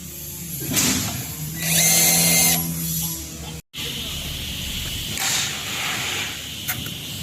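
A power drill bores holes for a connector in an aluminium curtain wall frame, giving whining bursts that rise and fall with a short gap between them, up close and loud.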